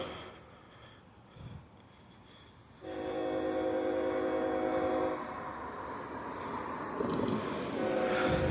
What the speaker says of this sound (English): Let's go ahead and watch the railroad crossing activate.